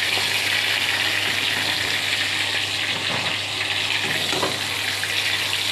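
Sliced pointed gourd (potol) fries in a pan of oil in a home kitchen, a steady, dense sizzle with occasional stirring scrapes running through the whole stretch.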